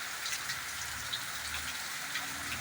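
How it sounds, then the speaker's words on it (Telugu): Steady midday rain falls heavily over a rural area in Pulicherla mandal, a dense, even hiss of drops on surfaces with no voices. "తుంపరతో మొదలైన వర్షం భారీగా మారి కురుస్తున్న దృశ్యాలు ఇప్పుడు మనం చూస్తున్నాం"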